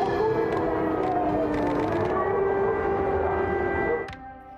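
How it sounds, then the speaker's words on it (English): Air raid sirens wail across a Ukrainian city during an overnight attack, a loud sustained howl whose pitch rises slowly, then drops away near the end. "Blasts and air raid sirens were heard across several major cities overnight."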